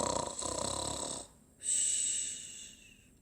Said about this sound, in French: Dès que l'ogre se mit à ronfler